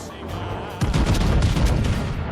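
Heavy naval guns boom in World of Warships-style combat aboard the Japanese ship Daisen, a deep burst of firing that erupts suddenly and rumbles on, loud and close.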